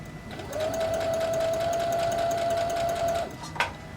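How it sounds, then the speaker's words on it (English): A sewing machine runs one steady continuous stitching stretch along fabric edges while understitching, close and even-paced with a humming whine, then stops with a short click. "I'm following the edges of what I just did, the under stitching."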